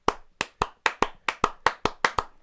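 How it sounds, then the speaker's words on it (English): Hands clap about eleven times in a steady, even rhythm, sharp and close in a quiet room, with no talking. "let's get another clap in there"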